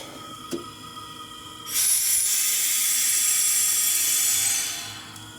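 A buried compressed air line in a sand bead blasting shop is switched on after a faint click, then a loud, steady high hiss runs for about three seconds before easing down.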